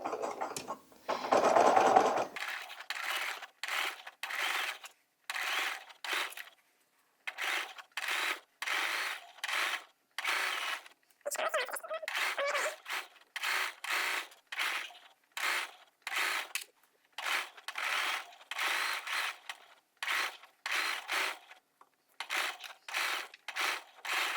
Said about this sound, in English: I'm going to top stitch around my whole hat